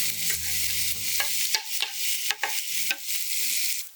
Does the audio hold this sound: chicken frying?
yes